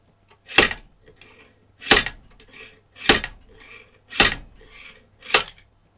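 Five sharp metallic slide-hammer impacts, roughly a second apart, as the weight is slid up to pull a dowel from a Honda XL500 engine during cam follower removal; close and loud with brief scraping between strikes.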